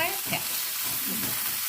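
Ginger and curry leaves sizzle and fry in a pan while being stirred, a steady close crackle with soft scraping strokes running throughout.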